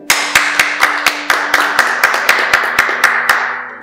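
Wedding guests clapping at a marriage ceremony, a steady run of distinct, loud, fairly even hand claps about every quarter second, close by and with no talk over them.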